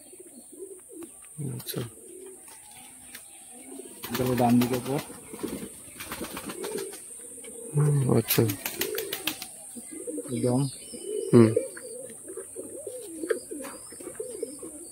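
Pigeons coo in a full loft in Chakdah, Balarampur, soft repeated throaty coos with occasional wing flutters under a faint steady hiss, while people talk nearby throughout.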